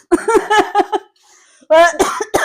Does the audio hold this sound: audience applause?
no